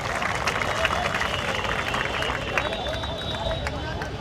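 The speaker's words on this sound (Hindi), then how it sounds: "दर्शकों से गुजारिश एक बार जोरदार तालियां उनके लिए बजाइए" Spectators at an Amantran Cup T-20 cricket match applauding a batsman returning to the pavilion, steady dense clapping and crowd noise with a voice talking over it.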